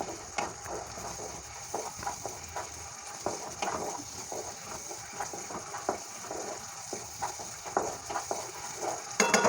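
Dahi masala bhendi, okra in a spiced yogurt masala, sizzles softly and steadily in a pan, with faint scattered clinks and stirring sounds throughout.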